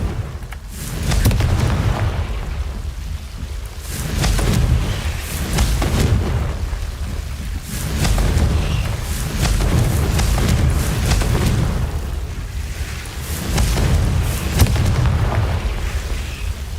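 Repeated booming fire-spell explosions from the Confringo curse in Hogwarts Legacy, heavy low blasts landing one after another in a continuous barrage over a dense background rumble, with no talk.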